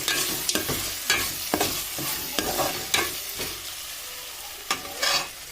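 Chicken pieces go into a pan of softened, pulpy tomato for a spicy chicken curry and are stirred, with repeated scraping clatters over a steady close sizzle and no talking.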